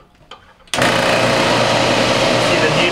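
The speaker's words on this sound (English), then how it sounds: "And I'm going to turn my reclaimer on." Refrigerant reclaimer machine used on a failed Maytag refrigerator compressor switching on after a quiet moment, then running with a loud, steady motor whine and hum that continues to the end.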